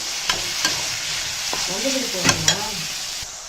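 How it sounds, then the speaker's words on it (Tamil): Vegetables with salt sizzle steadily in a pan. A utensil scrapes and clinks against the metal now and then as the mix is stirred, with no talking over it. "இப்போ இதை நல்லா மிக்ஸ் பண்ணிக்கலாம். இது நல்லா வதங்கட்டும்."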